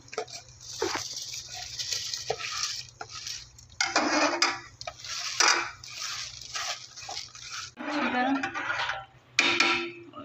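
Rice is tipped into a pot of boiling water for chicken biryani, with bursts of grains rattling and pattering, a metal utensil clinking against the pot, and quiet stirring between the pours, all close by.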